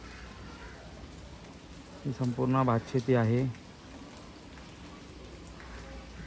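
Heavy rain falls over rice paddies in Konkan, a steady hiss running throughout, while someone speaks briefly in the middle.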